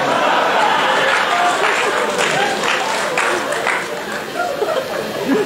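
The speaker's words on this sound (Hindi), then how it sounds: "देखो इससे भी ताली बजा रहे।" Audience applause at a Hindi speech event: a sustained burst of clapping from a crowd, fairly loud and near, mixed with chatter and a few chuckles.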